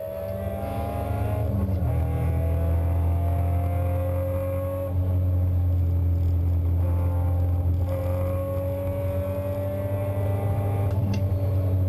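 ITA-class race cars roar past on a road racing circuit, a loud, continuous engine drone with rising and falling pitch as the cars pass close by, with no talking.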